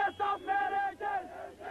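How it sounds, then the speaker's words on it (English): Angry crowd of marchers in Istanbul, rallying for murdered journalist Hrant Dink, shouting slogans in unison; loud rhythmic chanted phrases rising and falling in several bursts. "This crowd shouted its solidarity with Hrant Dink and its fury at what's happened to him."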